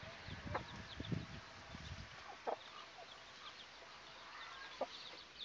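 Soft, repeated turkey hen clucks with scattered high peeps from their chicks, outdoors against a faint background hum; no talking.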